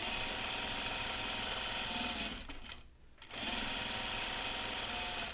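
A sewing machine stitches denim jeans with its bobbin running low, a steady close mechanical whir that dips and briefly stops midway before resuming at full speed.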